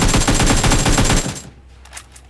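Rapid automatic gunfire in the PUBG Mobile game while the player moves, a loud continuous burst of shots lasting over a second before cutting off to quieter ambient game sound with a faint thud.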